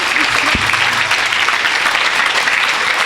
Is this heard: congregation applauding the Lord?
yes